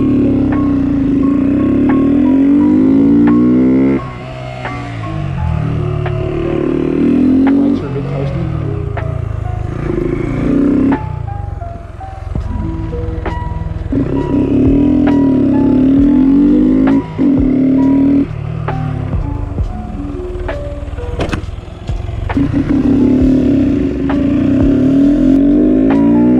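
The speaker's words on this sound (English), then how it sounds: "We'll warm up for a little bit and then we'll start throwing some second gears in there." Honda Grom motorcycle revving repeatedly during nose wheelie practice, the engine rising and falling in loud bursts of a few seconds each, with wind noise and clatter close to the mic.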